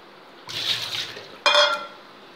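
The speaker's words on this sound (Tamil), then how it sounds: "1/2 டம்ளர் தண்ணி ஊற்றி வேக வச்சு." Half a tumbler of water poured into a pan while cooking breadfruit poriyal, heard as two short, close splashy bursts separated by a brief pause in an otherwise quiet kitchen.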